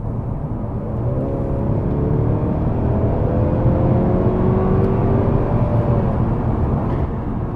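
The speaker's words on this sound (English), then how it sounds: "This has an interior augmented exhaust sound that I'm gonna let" Steady, droning engine note piped into the cabin of a 2022 Mercedes C 300 4MATIC with a 2-liter turbocharged four-cylinder, a continuous low rumble with rising tonal harmonics as the car pulls, loud and close with no talking.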